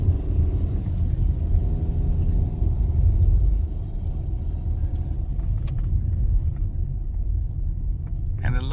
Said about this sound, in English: the actual drive to get to the terminus